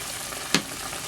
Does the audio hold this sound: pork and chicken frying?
yes